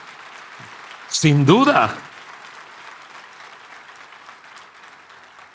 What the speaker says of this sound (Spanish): Dan un aplauso fuerte al Señor, sin duda.